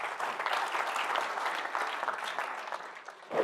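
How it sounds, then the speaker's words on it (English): Audience clapping for two volunteers returning to their seats after a magic performance, a steady round of applause that tapers off with a few last claps near the end. "Give them both a round of applause as they go back to their seat."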